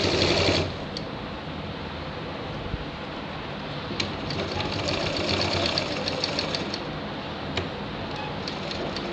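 A sewing machine stitches a shirt, whirring continuously and close by at an even speed after a brief louder start, with faint ticking from the mechanism throughout.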